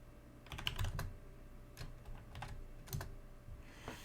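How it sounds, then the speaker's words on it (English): Keys clack on a computer keyboard in short irregular bursts of typing, fairly close and quiet against a faint room hum, with pauses between the runs of keystrokes. "I'm just going to type out"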